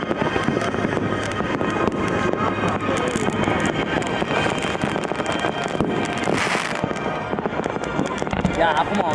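New Year's fireworks bursting close by, a dense, continuous barrage of loud crackling explosions and booms for several seconds, with brief louder bursts standing out against the steady roar.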